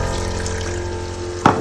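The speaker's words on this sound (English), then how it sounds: "So here I'm gonna add a little bit of water." Water pours steadily into a pan of fried onions and tomatoes, making a continuous hissing rush that ends in a brief splash.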